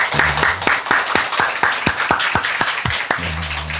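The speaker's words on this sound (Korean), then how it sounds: "우리 같이 한번 박수로 하나님께 영광 돌리겠습니다" A church congregation claps in unison at a Korean church festival service. The crisp, rhythmic beats come in a steady pulse, and a voice is heard briefly at the start and the end.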